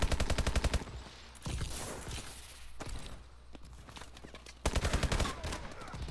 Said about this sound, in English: They're shooting so fast.